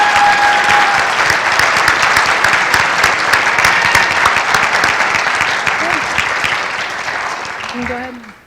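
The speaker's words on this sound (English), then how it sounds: "Ladies and gentlemen, please join me in applauding the next generation of allied health and nursing professionals." A large audience at a South Central College National Signing Day 2017 event in North Mankato applauds nursing and allied health graduates. The clapping is thick and continuous throughout and eases slightly at the very end, with faint voices underneath.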